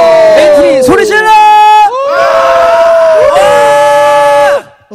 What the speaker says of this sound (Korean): 근데 방금 환호가 들린 것 같은데